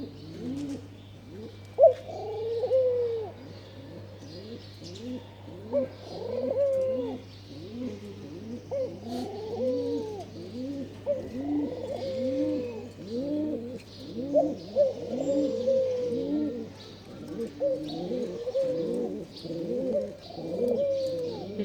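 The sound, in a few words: doves cooing on a rooftop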